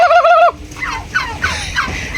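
A loud, close turkey gobble rattles out on a turkey farm, followed by several shorter, fainter gobbling calls from other turkeys nearby.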